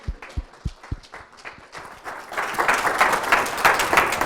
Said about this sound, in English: Get on your feet and give him a big round of applause.